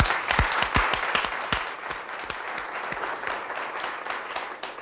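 Audience applause at a Turkish comedy prank show, dense many-handed clapping with a few sharp claps standing out near the start, then fading slightly and holding steady with no talking.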